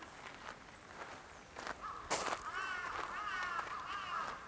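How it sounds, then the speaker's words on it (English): A bird calls loudly from a short distance at Hokkaido Shrine in Sapporo, Japan, with harsh, repeated cries, over faint footsteps and rustling outdoors. "I hear some bird over there. He's loud."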